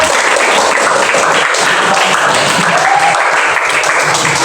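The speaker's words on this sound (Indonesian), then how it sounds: "Oke, beri tepuk tangan untuk" Students clap together in a classroom during a science lesson: a dense, steady round of applause that holds at full strength throughout, close and loud.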